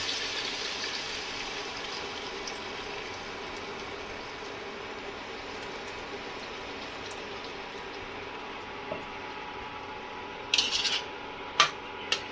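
Onion paste tipped into a pan of partly cooked chicken, giving a steady soft sizzle and rustle throughout, with a few sharp metallic clinks of utensil on pan near the end; no one speaks.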